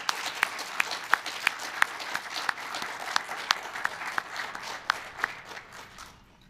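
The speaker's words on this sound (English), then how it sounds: "a big round of applause to you putting this together" A modest audience at a startup demo day claps for the organizers, scattered distinct hand claps with a few sharp standouts, steady then tapering off and fading to quiet.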